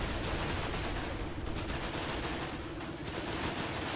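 Gunfire in the war video game Running With Rifles, a continuous distant rattle of rifle and machine-gun fire with dense overlapping shots, fairly faint and with no talk.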